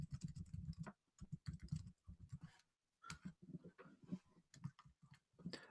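Fast, irregular keystrokes on a computer keyboard come in close, steady bursts separated by short pauses, with no voice over them.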